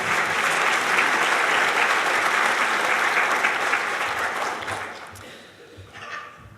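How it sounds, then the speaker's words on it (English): Audience at a spring master's hooding graduation ceremony gives sustained loud applause that fades out after about five seconds, followed by a brief faint tail of sound. "So please join me in giving them all a round of applause."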